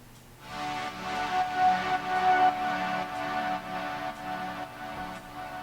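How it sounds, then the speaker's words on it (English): Short blocks of piano and a gritty synth sound out in repeated pulses, each drenched in heavy reverb that smears them into a washy, sustained haze at moderate volume. "I just created these one little blocks here with the piano sound and that crazy synth sound that I was using, and put a ton of reverb on them"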